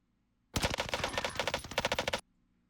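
An automatic gun fires in the Warzone video game, one rapid sustained burst of about a second and a half that cuts off sharply, close and loud after a brief quiet start.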